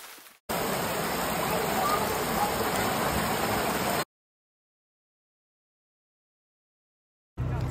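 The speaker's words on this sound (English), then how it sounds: "it rained a lot too." Steady rain falls in the Lot region of southwest France, a dense, even hiss that starts abruptly and holds for a few seconds, then cuts to silence before resuming at the end. It is fairly loud and close, with no voices.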